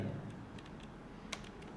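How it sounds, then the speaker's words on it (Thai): Faint clicks from a computer keyboard during an HTML coding lesson, with one sharper key press, likely the Tab key, standing out above a low steady background hum. "อาจารย์กดแท็บนะครับ ที่คีย์บอร์ด"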